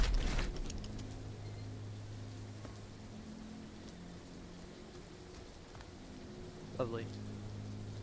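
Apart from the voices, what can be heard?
rain in a video game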